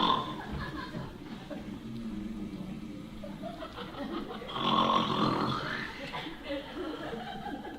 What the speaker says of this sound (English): That grandmother has a mighty snore.